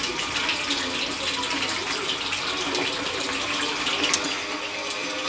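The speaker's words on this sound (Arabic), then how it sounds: "والله جوزي عم صب عصير" Juice pouring from a container in a home kitchen during holiday cooking preparations, a steady continuous liquid stream with a bright splashing hiss lasting throughout, fairly close, with no talking.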